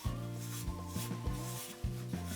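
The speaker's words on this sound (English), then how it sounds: "now I'm going to put on the abrasive paste" Abrasive paste rubbed into a sanded, sealed wooden ring makes soft repeated scrubbing strokes, close and quiet, with short pauses between passes.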